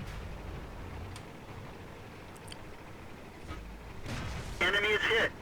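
Tank cannon fire from an M5 Stuart in a video game: distant booming shots thud at intervals over a low engine rumble, ending in a louder burst.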